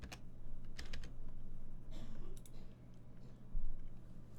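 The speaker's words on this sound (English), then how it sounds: "Just type upsell in here and hit the search." Quick bursts of keystrokes and clicks on a computer keyboard, several short clusters of tapping separated by pauses, close and fairly quiet over a low steady room hum.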